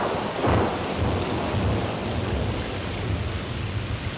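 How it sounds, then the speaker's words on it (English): An underwater earthquake picked up by hydrophones produces a loud, deep, thunder-like rumble that swells near the start and then roars on continuously through the whole short stretch. "it's really the sound of an earthquake underwater recorded by hydrophones"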